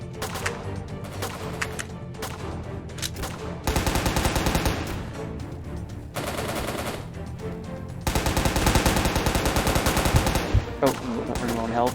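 Video game RPK machine gun fire rattles in dense bursts, loud and continuous across the stretch, with a soundtrack and game effects underneath.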